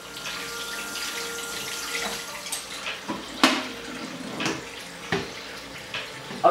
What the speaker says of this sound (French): c'est nettoyer le gua sha à l'eau tiède avec un savon très doux après chaque utilisation